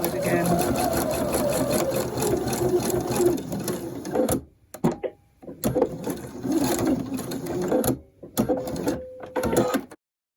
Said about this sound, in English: A couple of stitches forward, and then back tack to the edge,